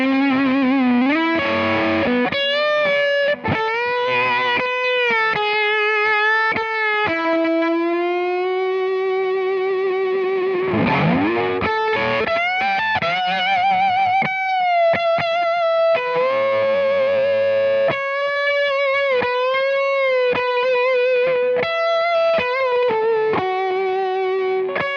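A heavily distorted Fender FSR Tribute Stratocaster electric guitar plays a long, continuous solo with bends and fast runs, thick and compressed with effects, loud and without talking.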